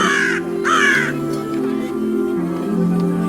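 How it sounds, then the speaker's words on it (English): A crow caws twice in quick succession, loud and close, in a storybook setting over a steady background music bed. "It was a clever crow."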